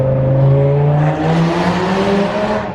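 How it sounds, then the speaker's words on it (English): A Lamborghini Murcielago with a freshly rebuilt engine and manual gearbox roars close by in a tunnel, its revs climbing then falling in a strong, echoing engine blast. "let's start this Murcielago up. Oh, tunnel blast, ready?"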